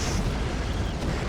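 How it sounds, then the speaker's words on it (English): 23mm autocannons on a Tunguska air-defence vehicle fire at infantry in the WARNO real-time battle game, a dense, continuous low rumble of rapid bursts that stays loud throughout with no voices. "we got a Tsunga firing away with 23mm cannons at infantry"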